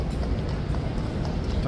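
Horse hooves clip-clopping at the King's Guard, a dense, busy patter of hoof strikes mixed with crowd noise and voices talking nearby.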